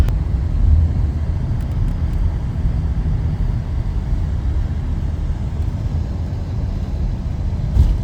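A car drives along a lochside road by the mouths of Loch Leven and Loch Linnhe in the Scottish Highlands, giving a steady, continuous low engine and tyre rumble from inside with no talking.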